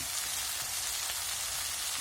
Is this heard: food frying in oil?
yes